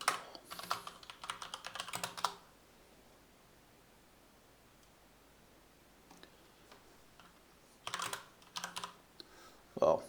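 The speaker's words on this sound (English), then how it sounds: "Well, should really type like this." Quick bursts of computer keyboard typing in a terminal, close and crisp, with a pause of quiet room tone between clusters of keystrokes and a final short flurry.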